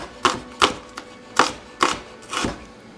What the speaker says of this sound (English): We're just going to cut up some onion for the rice